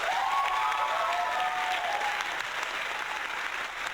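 An applause sound effect plays as a steady crowd clapping bed, with a brief whistle-like tone near the start before settling into even clapping.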